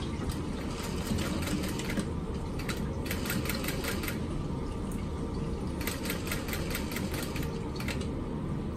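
Topstitching on a fabric crossbody bag, a sewing machine whirring steadily up close in several short runs with brief pauses between them and no voices.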